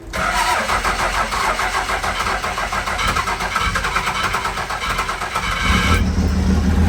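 A Cummins diesel swapped into a Squarebody truck, unstarted for about two and a half months, cranks with a rapid rhythmic starter churn and then catches into a louder, rough-running idle near the end, loud and close.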